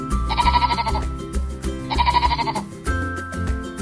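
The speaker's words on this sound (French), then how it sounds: "le mouton" Sheep bleating on a farm, two long wavering bleats in succession, loud and close, set over a bright musical backing with no talking.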